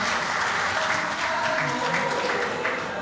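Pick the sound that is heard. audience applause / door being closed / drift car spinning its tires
audience applause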